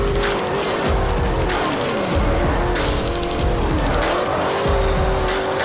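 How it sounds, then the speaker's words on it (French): A Bugatti Veyron drifts in Forza Horizon, engine roaring loud and steady while tires squeal continuously through the slide, with no talking. "On va essayer de faire le virage en drift là."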